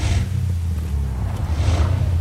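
A 603-horsepower biturbo V8 in a 2018 Mercedes-Benz luxury sedan gives a steady, loud low rumble. The pitch swells slightly, like revving or accelerating. No one speaks.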